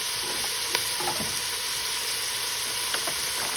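Pork adobo with potatoes fries and gets stirred in a pan, giving a dense constant sizzle with a few clinks and scrapes from the spoon, and no talking.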